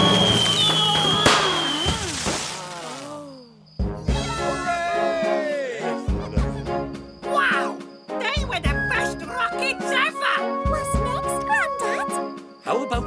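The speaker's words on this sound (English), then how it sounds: "Some Roman candles." Roman candle fireworks at a display in a Fireman Sam cartoon: whistling launches and crackling bursts fill the first few seconds, then give way to bright, jingling music with scattered pops.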